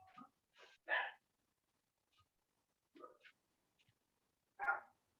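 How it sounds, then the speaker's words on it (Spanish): Dogs barking outside during a class, a handful of short, muffled barks spaced irregularly, faint and distant against near silence. "están ladrando todos los perros"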